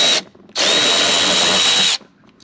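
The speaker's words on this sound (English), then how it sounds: "So the only thing we are using today is a Milwaukee 8mm ratchet." A Milwaukee 8mm power ratchet takes out mud flap bolts on a Ram TRX truck, giving a short whir, a brief pause, then a loud steady motor whine of about one and a half seconds, close up.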